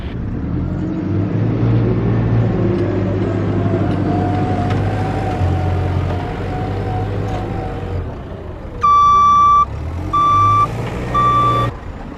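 A JCB loader working with hay bales rumbles with a steady diesel engine drone, then gives loud, evenly spaced high reversing beeps near the end.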